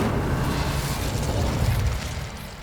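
A sustained roaring burst of the Incendio fire spell in Hogwarts Legacy, a dense rumbling blast lasting a couple of seconds before tapering off, with no talk over it.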